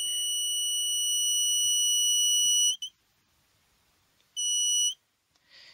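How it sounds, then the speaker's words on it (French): A copper detector kit's buzzer sounds as a loud, steady high-pitched tone, cuts off, then returns in a shorter burst before stopping while it is adjusted with a screwdriver. "il faut tourner jusqu'à ce qu'on n'entende plus le buzzer sonner"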